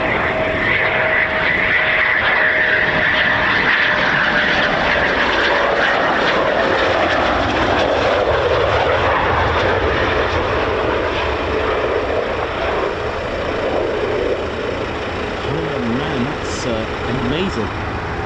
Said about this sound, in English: when they keep doing touch and goes, it allows them to get a few more landings and